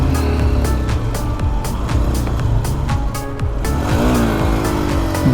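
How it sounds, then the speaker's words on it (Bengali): A motorbike engine labours on a steep, rough mountain road toward Manang, Nepal, giving a loud, continuous drone that climbs in pitch toward the end. "বাইকে পাওয়ারই পেতে যেতেছে"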